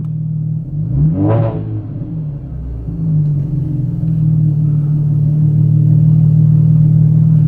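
Camaro V6 engine from inside the cabin, a low steady rumble with one quick rev rising and falling near the start, then a settled, loud, constant drone.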